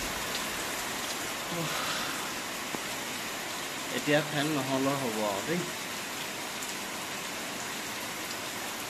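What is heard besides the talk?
rain falling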